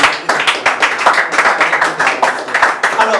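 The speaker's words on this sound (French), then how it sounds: "ça mérite ton applaudissement" A small group claps steadily and close by on a Haitian talk show, a quick uneven run of hand claps filling the moment with no talk over it.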